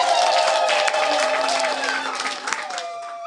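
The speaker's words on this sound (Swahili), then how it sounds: "kwa pamoja tumpigie Mungu makofi" A church congregation at a TCRC wedding service in Kyaka claps together, a dense sustained applause from many hands that slowly thins toward the end, with a voice speaking over it.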